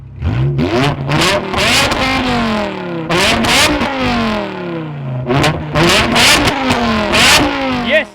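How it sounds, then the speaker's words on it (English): A supercharged BMW M5 engine revs hard again and again, pitch sweeping up and down in loud aggressive bursts, close by. "what you heard here is probably the sickest M5 sound I've ever heard in my entire life"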